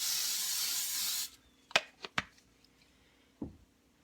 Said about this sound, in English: I'm going to spray it with some Pam.